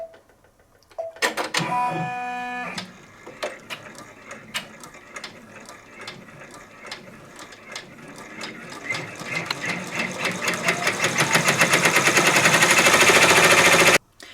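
A Brother or BabyLock multi-needle embroidery machine stitches the applique tack-down for letters. Mechanical beeps and clicks come first, then rapid rhythmic needle clatter that builds louder and faster, running close and continuous.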